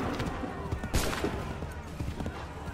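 A volley of musket fire crackles in bursts in the video game Assassin's Creed III, with several overlapping shots and a sharp peak near the middle, set against a busy battle din and occasional voices.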